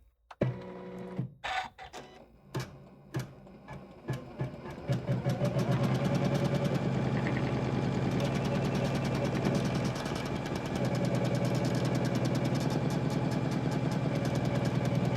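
A domestic embroidery machine begins with a few separate clunks, then speeds up into a fast, steady mechanical stitching rattle while sewing a satin-stitch design on a notebook cover. The sound is close and continuous.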